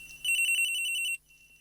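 A cell phone ringtone from the video game Phoenix Wright: Ace Attorney chirps in a rapid, bright, pulsing trill for about a second, then cuts off, leaving a quiet background.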